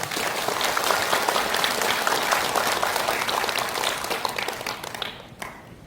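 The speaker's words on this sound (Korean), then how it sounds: "다 같이 박수 한번 칩시다." A large audience at a political talk concert claps together in a loud, dense, sustained burst for several seconds, then the applause drops off abruptly near the end.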